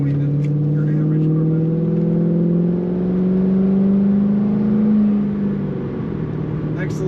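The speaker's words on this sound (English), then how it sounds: "this car has a nice exhaust note" Exhaust drone of a 2010 Chevrolet Corvette coupe, a steady throaty low rumble that rises slowly in pitch as it revs and accelerates, loud and continuous from inside the car.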